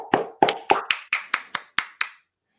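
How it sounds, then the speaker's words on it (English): Nine or ten sharp, evenly spaced hand claps ring out close and clear in a room, a small birthday round of applause that stops cleanly after about two seconds. "Clap it up for him."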